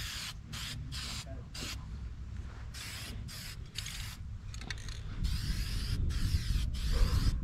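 Truck tire being aired up in a shop, with an air tool's rapid rhythmic hissing bursts and mechanical clicking, growing louder toward the end, with faint voices nearby.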